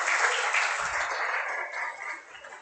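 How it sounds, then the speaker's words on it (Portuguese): Brief applause at an academic seminar welcoming a professor, a burst of many hands clapping that holds for a couple of seconds and begins to fade. "Aplausos para a professora Viviane de Bona."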